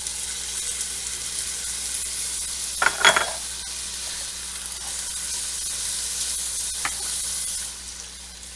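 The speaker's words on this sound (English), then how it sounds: "Now we're starting to add our sauce. So this is a 15-ounce can of tomato sauce." Canned tomato sauce (15 ounces) pours into a hot pan for homemade spaghetti meat sauce, setting off a steady hissing sizzle with a short splashy burst early on and a brief stir later.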